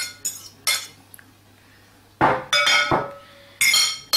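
Ground meat and egg mixture is stirred in a bowl, with a utensil clinking and scraping against the dish in several short, irregular bursts, close and fairly loud with quiet gaps between.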